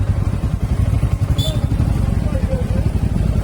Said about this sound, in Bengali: ফাইনালি বাইকটা পার্ক করে দিলাম